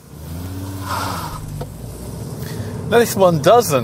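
The three-cylinder engine of a MINI Hatch 3 door gives a low, steady hum with a slight rise in revs, fading under someone speaking at the end.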